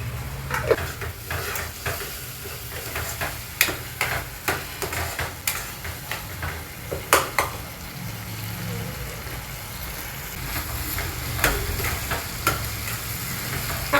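Ground masala paste hits a hot pan for paneer bhurji and sizzles steadily, with repeated sharp scrapes of a spoon stirring against the pan, close and fairly loud; no talking.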